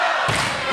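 A wrestling event crowd cheers and applauds, a sudden swell of loud roaring and clapping that sustains briefly, with another burst at the end.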